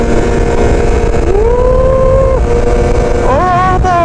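A snowmobile engine roars loudly and steadily during a snow storm, its pitch climbing in rising sweeps as it accelerates hard, close to the listener.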